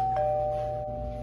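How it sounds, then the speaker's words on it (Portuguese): A doorbell chime rings out once, clear and sustained, in a quiet home interior, with no talking over it. "atende a campainha, por favor."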